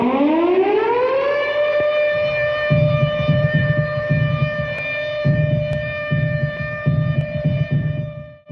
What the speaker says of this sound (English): This siren would mean that we were under attack